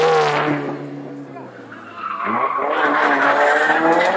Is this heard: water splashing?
no